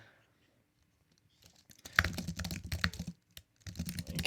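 Keys clatter on a computer keyboard during a coding session. After about a second and a half of near silence, rapid close typing runs in a steady stream with a brief pause near the end.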